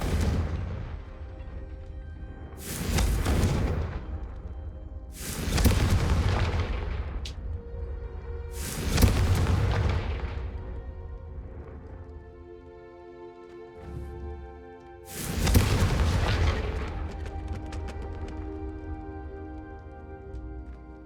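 Confringo fire spell blasts in the Hogwarts Legacy video game: four or five loud, booming explosions spaced a few seconds apart, each with a long rumbling tail, over a low continuous hum.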